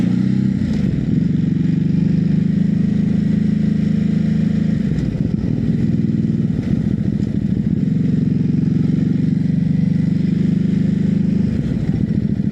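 A Hypermotard motorcycle engine runs steadily throughout while being ridden, a loud, continuous low drone with brief dips and surges as the throttle is blipped and revved, no talking over it.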